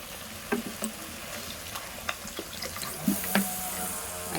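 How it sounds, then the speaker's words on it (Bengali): A little water goes into a pan of doi begun curry with soft splashes, faint sizzles and scattered clicks of stirring, quiet and close, with no talk. "দিয়ে অল্প একটু জল দেবো।"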